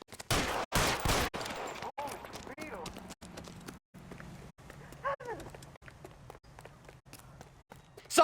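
Gunshots in the video game L.A. Noire: a string of sharp, separate cracks spaced through the scene, the loudest ones early, with quieter ambience and a voice in between.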